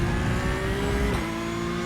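A Toyota GR86 race car in the iRacing sim holds a steady, loud, droning engine note, pitch easing slightly before a brief shift or lift near the end, with no talking.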